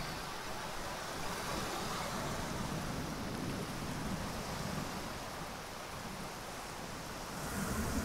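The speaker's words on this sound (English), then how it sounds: "the tide's coming in" Waves of the incoming tide wash onto Plage Bonaparte beach in France, a steady broadband surf roar with gentle swells, heard alone without voices.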